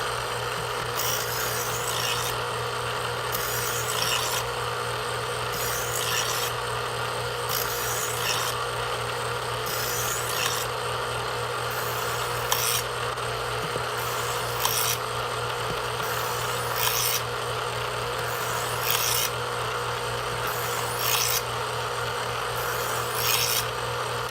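A knife is sharpened on a fine grit stone, with steady, rhythmic rasping strokes repeating evenly at close range over a constant low background hum, and no voices.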